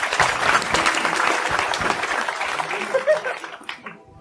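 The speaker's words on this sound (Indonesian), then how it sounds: "sekarang tepuk tangan untuk terakhir Pak Muzamil ya" An audience claps in a round of applause at a talk, with scattered laughter mixed in, before the clapping thins out and fades.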